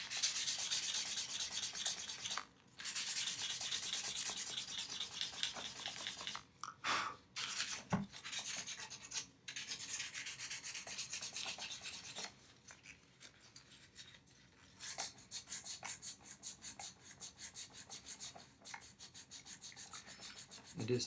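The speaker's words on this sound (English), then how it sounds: "I'll switch over to my 800 grit." Steady rasping strokes of 800-grit sandpaper worked by hand over the wooden body of an acoustic guitar, close and continuous with a few brief pauses between passes, no voices.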